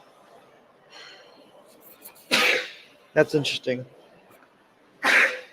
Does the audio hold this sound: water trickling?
no